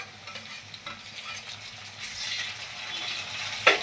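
Tomatoes hit a pan of fried onion and garlic for toor dal and spinach khichdi, giving a soft steady sizzle with stirring scrapes and a sharp utensil clink near the end, no voices.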